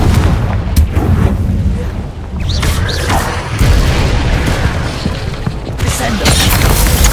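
Confringo fire spell explosions in the Hogwarts Legacy video game, a dense run of booming blasts and crackling impacts filling the whole stretch under game effects, with a voice calling out spell names.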